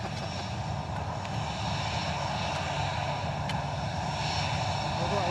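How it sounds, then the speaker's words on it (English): A British Caledonian DC-10 jet taxis out at the airport, giving a steady, moderately distant engine rumble and whine that holds evenly across the stretch. "We've got British Caledonia DC-10 coming out."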